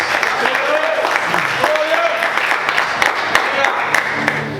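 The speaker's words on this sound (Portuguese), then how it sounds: "Aplauda Jesus, bem forte, glória a Deus." A church congregation applauds loudly during an evangelical service, with sustained, dense clapping and a faint tonal hum and voices mingled underneath.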